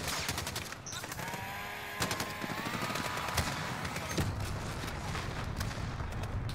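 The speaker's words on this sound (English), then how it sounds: "that was a big old explosion" Rapid machine-gun bursts and sharp gunshots fill a Call of Duty Modern Warfare battle, mid-level and sustained, with a few heavier cracks and booms punctuating the steady stream of combat noise.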